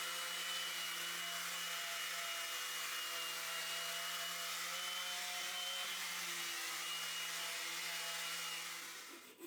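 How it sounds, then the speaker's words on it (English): A power sander works over the exterior and slats of a wooden bench. It gives a constant whining hum with a steady pitch, close by, and tapers off at the very end. "Sand all the exterior well, between the slats and under."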